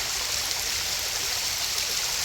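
Continuous rushing water, a steady broadband roar of small monsoon waterfalls and streams flowing close by on the Matheran ghat, with no voices.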